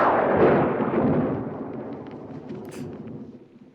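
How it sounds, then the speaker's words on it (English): A deep, heavy rumble of thunder rolling and slowly fading over several seconds, from the 1965 film The Sound of Music. "Why does the thunder get so angry?"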